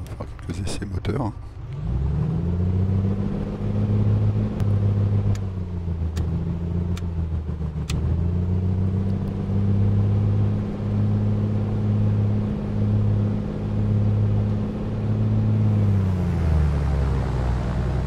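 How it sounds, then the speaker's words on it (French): A light aircraft's piston engine runs up at a runway holding point before a VFR flight, giving a steady loud droning roar with slight pitch shifts throughout. Brief clicks and a voice are heard near the start. "Allez, on va faire quelques essais moteurs."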